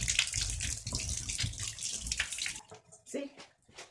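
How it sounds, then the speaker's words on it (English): Running water from a tap rinses soap scum off a bathroom fixture, a close, steady hiss of splashing that cuts off abruptly partway, followed by a brief voice and small knocks. "I'm gonna rinse this off to make sure that I'm getting all of it."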